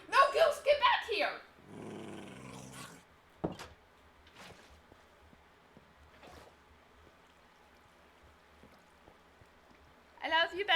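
A pet dog in the Minecraft video game growls in a low rumble between excited voices talking and laughing, with sparse quiet game noises in the gaps.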